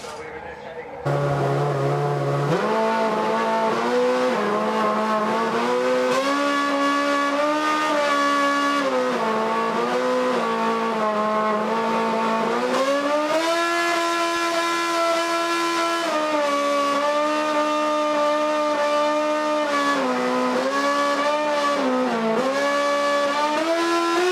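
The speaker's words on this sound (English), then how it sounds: "here's Red Bull with their little tribute. It's the national anthem played by the engine." A Red Bull Formula One racing engine revs through the melody of a national anthem at Goodwood Festival of Speed, its sustained loud tones stepping up and down in pitch like a tune for over twenty seconds.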